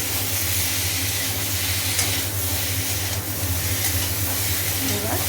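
Tomato and spices sizzle and fry steadily in a pan for vegetarian khichuri, a dense continuous hiss with occasional stirring scrapes and a low hum underneath, close and loud throughout.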